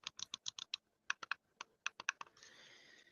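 A plastic computer keyboard clicks close by in quick, uneven bursts of keystrokes, a dozen or so sharp taps with short pauses, ending in a softer rattling stretch.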